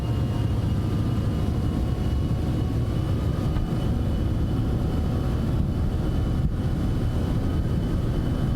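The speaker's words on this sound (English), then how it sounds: "Takeoff power is set." Citation X business jet engines spool at takeoff power in Microsoft Flight Simulator. A loud, steady, dense roar and rumble holds unchanged throughout with no talking.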